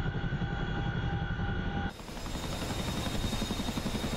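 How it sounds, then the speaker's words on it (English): A CH-47F Chinook tandem-rotor helicopter flying in the DCS combat flight simulator gives a continuous loud, droning rotor and engine roar, with an abrupt change in tone partway through. "At the moment, it's a fast helicopter."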